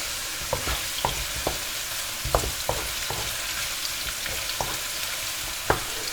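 Carrots for bo bun fry steadily in a pan with a constant sizzle, broken by scattered clicks and knocks of a utensil stirring them, close and clear with no talking.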